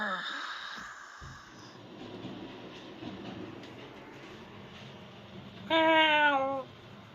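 A voice imitates a cat with a single drawn-out meow, loud and close, coming after a stretch of quieter talking and background noise.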